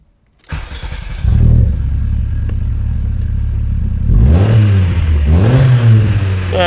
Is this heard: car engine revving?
yes